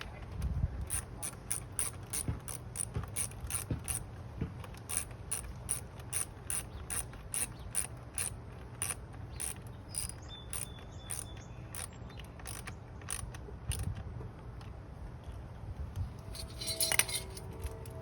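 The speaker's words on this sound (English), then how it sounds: "Don't over tighten because you don't want to break it, but you do want to have a good connection. This is a 10mm socket if you're using a wrench." Ratcheting clicks of a 10mm socket wrench tightening the battery terminal on a 1995 Honda Nighthawk 750 motorcycle, a steady run of close, crisp clicks in regular strokes with brief pauses, no talk.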